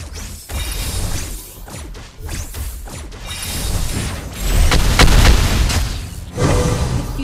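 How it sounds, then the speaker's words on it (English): A turret being destroyed in a video game: heavy rumbling booms and crashing debris in a dense, loud wash, swelling into a bigger blast near the end. "Our turret has been destroyed."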